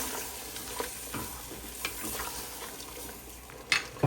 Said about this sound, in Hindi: इसको भी मिक्स कर दें